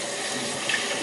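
Running tap water rinses exfoliant off skin in a steady, bright hiss of flowing water, close and continuous, with no one speaking.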